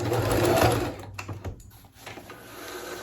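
Home sewing machine running a straight stitch around a circle of fabric for a dog diaper, a steady close whir that slows and stops partway, followed by lighter intermittent stitching and handling.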